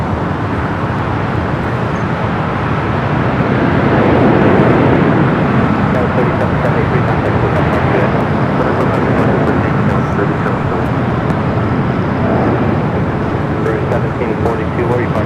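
A Boeing 787-9 Dreamliner in special livery rolls for takeoff on runway 24 left at Los Angeles airport, a steady broad jet roar swelling slightly mid-way, heard from a distance with continuous traffic-like rumble throughout.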